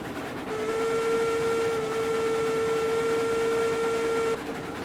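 Steam train whistle in the railroad game Railroads Online, one long steady tonal blast of about four seconds over a constant rumble of engine and rolling noise.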